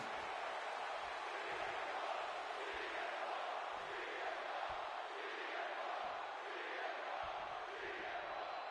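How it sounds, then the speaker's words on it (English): A wrestling arena crowd roars steadily as a wrestler enters, a dense, distant wall of cheering and chanting that holds at constant loudness throughout. "The crowd is on their feet for Jey Uso."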